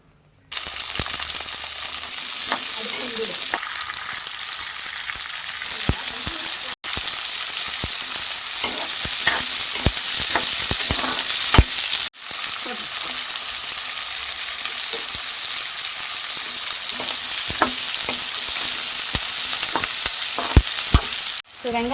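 Onions sauté in hot oil for a Kongu-style South Indian fish curry, a loud, close, continuous sizzle broken by repeated scrapes and clinks of a spoon stirring the pan, with no talking.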